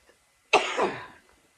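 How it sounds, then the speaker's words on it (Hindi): A single sharp cough bursts out close by, then trails off in a short rasp, with silence before and after. "मुझे खांसी हो गई थोड़ी"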